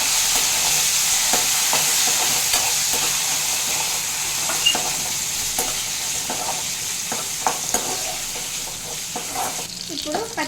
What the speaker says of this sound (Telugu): ఇది ఫ్రై అవ్వాలి.